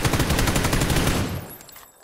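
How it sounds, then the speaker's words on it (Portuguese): Rapid automatic gunfire in the battle royale game PUBG, a dense, loud burst of shots that keeps going for over a second before cutting off and fading into quiet. "É um tiro nele, Bruno, é um tiro."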